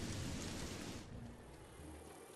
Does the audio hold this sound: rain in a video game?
yes